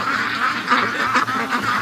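Muscovy ducklings quack steadily inside a barn, a dense chorus of close, overlapping calls that runs without pause from start to finish.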